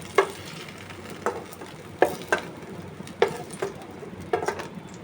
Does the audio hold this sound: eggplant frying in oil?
yes